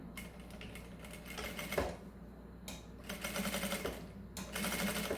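Sewing machine with a presser foot stitching a zipper on a mesh fabric waist bag, running in rapid mechanical bursts with brief stops in between, close and steady.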